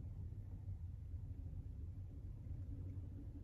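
A snowstorm rises outside, a steady low wind rumble, faint and continuous, with no voices over it.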